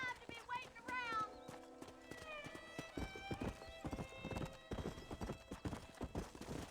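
Galloping hooves beat in a quick, steady rhythm throughout from a horse ridden in Red Dead Redemption on Nintendo Switch, with a whinny and a voice speaking near the start, then hooves continuing over music.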